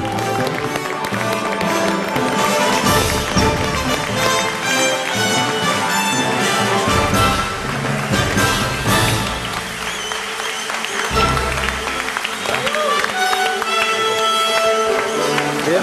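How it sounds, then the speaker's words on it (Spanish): Loud, sustained applause from a television studio audience welcoming Gabriel Milito to a tribute show, dense and continuous, with music playing underneath throughout. "fuerte el aplauso para recibir en este programa homenaje"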